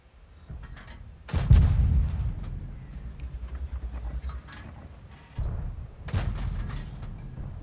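Heavy cannon blasts from tanks in a World of Tanks battle, several deep booming shots spaced a few seconds apart, each followed by a rumbling tail, loud and close with no talk.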